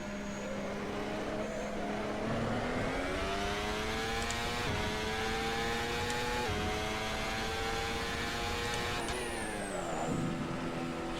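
Ferrari SF15-T Formula 1 car in Assetto Corsa at the Red Bull Ring, its engine droning loudly and continuously with pitch climbing through the gears and dipping at shifts, plus a whine that sweeps near the end.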